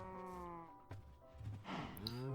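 A sheep in Minecraft bleats in a wavering, nasal cry, then calls again more briefly, sounding close and clear over quiet game background.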